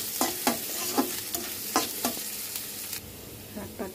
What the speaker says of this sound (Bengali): এখন বাগার দেবো